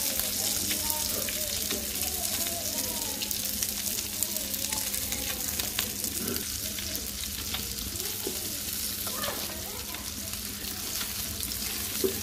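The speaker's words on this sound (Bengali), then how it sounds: "বাকিগুলো ভেজে নিব, মাথাগুলো।" Rohu fish pieces and heads frying in hot oil, a steady, dense sizzle close by with occasional spatters and turning sounds, and a faint voice murmuring in the background.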